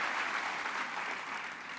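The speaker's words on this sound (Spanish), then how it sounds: "denle un aplauso al Señor si desea hacerlo" A church congregation gives a steady, even round of applause, many hands clapping at a distance and fairly faint, with no clear break across the whole stretch.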